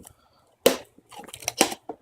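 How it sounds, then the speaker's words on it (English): PlastiDip rubber coating peeled off a car, giving a sharp tearing rip followed by a run of crinkly, crackling bursts, close and dry, with quiet gaps between. "now I'm just going to peel the PlastiDip off."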